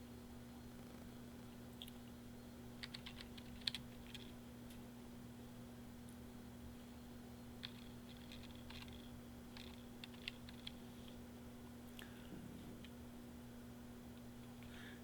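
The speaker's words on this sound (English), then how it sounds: "now I'm ready to start typing" Sparse keystrokes on a computer keyboard while drafting in AutoCAD, scattered soft clicks in small clusters, quiet and close over a constant electrical hum.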